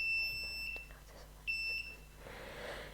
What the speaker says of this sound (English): see if the buzzer turns on and off when you point it at the light source